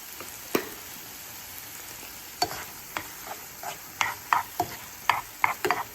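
Scrambled tofu seasoned with turmeric being stirred in a frying pan over medium heat, a low hiss under scattered scraping strokes of a utensil that come faster toward the end, close by.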